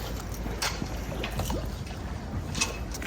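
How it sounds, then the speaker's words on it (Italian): Lake water lapping and sailboat noises at Salò, soft sloshing and faint creaks and clinks blending into a gentle, fairly quiet ambient wash. "C'è questi suoni che si fondono, l'acqua con i rumori della barca a vela proprio."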